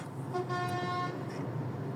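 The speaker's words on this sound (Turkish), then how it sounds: "kamyon hatta öndeki araca korna çalıyor" A truck sounds its horn at the car ahead in congested city traffic, a single sustained toot lasting about half a second over a constant rumble of engines and road noise.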